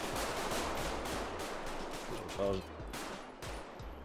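Repeated gunfire bursts in a SWAT tactical video game, a steady rattle of shots filling the clip with a brief louder burst near the middle, no speech.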